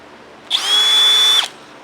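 A 20V brushless cordless drill runs in second gear, a loud steady high whine that spins up abruptly, holds evenly for about a second, then cuts off, with no talking.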